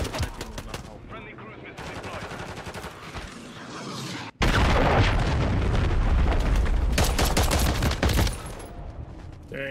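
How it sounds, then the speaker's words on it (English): A cruise missile strike in Call of Duty Modern Warfare III plays as rattling gunfire, then a sudden loud blast that opens into a sustained roaring barrage of explosions and shots before easing off. "Friendly cruise missile deployed."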